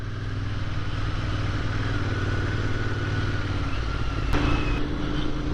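A Royal Enfield 650 Interceptor motorcycle engine hums steadily and continuously at low speed, close and fairly loud, with a brief clatter near the end.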